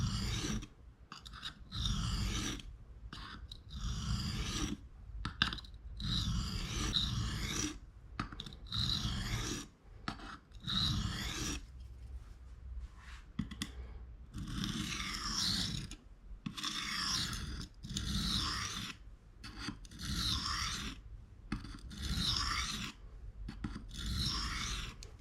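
Knife bevel is sharpened on a coarse 220 stone with long rhythmic rasping strokes, close and loud, repeating in even passes separated by short pauses.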